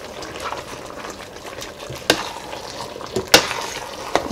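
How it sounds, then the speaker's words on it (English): Vegetables are stirred into a pot of Nigerian efo riro vegetable soup, with a soft bubbling simmer, wet sloshing and a few sharp spoon clinks against the pot, close up and with no talking. "And stir together."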